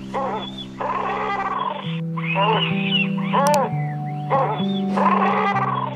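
Common murres, the Ororon bird, give low groaning calls in repeated bursts, nearby and fairly loud, with harsh tonal cries layered over a sustained hum.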